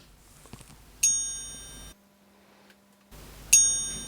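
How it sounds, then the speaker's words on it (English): A Christopher Ward Bel Canto 2023 chiming watch strikes its hour bell with a small hammer: two bright metallic dings, each ringing out and decaying, about two and a half seconds apart, close and clear with quiet between. "You can definitely hear the hammer hitting that bell"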